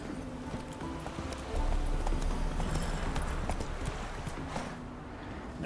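Roach the horse in The Witcher 3 video game, steady clip-clop of hooves close by over a dense game ambience, with a brief whinny mixed in.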